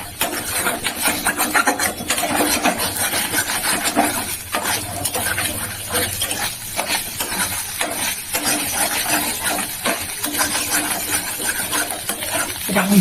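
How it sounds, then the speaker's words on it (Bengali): Egg fried rice frying in oil in a pan while being stirred: a steady, dense sizzle with scraping and rubbing strokes running throughout, close and fairly loud. "এটা আমি ভাজি, সুন্দর করে লাল করে ভাজবো"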